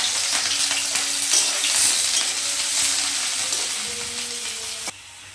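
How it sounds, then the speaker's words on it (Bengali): Chopped onion and green chilli fry for chowmein, a steady close sizzle with light stirring scrapes, which drops away abruptly near the end; no one speaks. "পেঁয়াজটা ভাজা হয়ে গেছে।"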